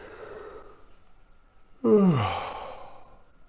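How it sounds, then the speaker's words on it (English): A single long, breathy yawn rises suddenly after a quiet stretch of faint murmuring, then trails off slowly. "we have this yawning"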